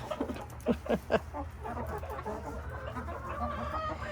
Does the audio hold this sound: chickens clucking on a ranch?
yes